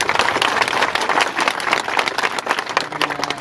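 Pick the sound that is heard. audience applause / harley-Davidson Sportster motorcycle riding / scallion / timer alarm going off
audience applause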